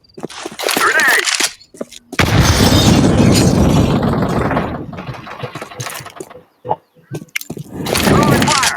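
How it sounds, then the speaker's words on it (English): A grenade blast in the Counter Strike 2 video game, a loud booming burst that fills the middle of the clip and rumbles on for a couple of seconds, framed by other game noise and bursts of activity. "I'm throwing a grenade! Grenade out!"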